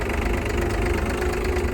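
Tractor engine running with a steady, close, rough diesel-like idle thrum and knocking rhythm, loud and uninterrupted over a short stretch.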